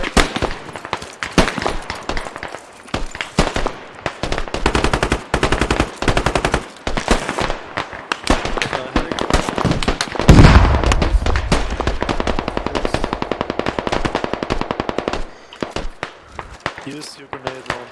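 Rapid automatic rifle fire and single shots in the military shooter game Squad, loud near bursts crackling almost continuously with a heavy explosion midway, while players talk over the gunfire.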